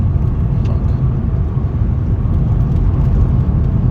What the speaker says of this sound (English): Let me give it some gas.